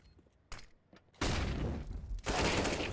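Desert Eagle pistol fire in a CS:GO match, with sharp loud shots at about half a second and one second, then dense overlapping bursts of gunfire crackling through the rest.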